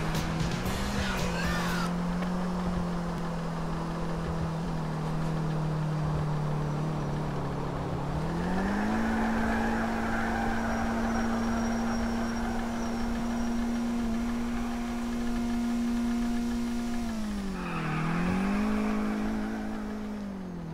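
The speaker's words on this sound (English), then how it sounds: "When you enter a car, it begins to smoke while auto-accelerating." A smoking car auto-accelerating in a Rockstar video game gives a steady, droning engine tone that climbs and dips in pitch twice, loud and continuous throughout.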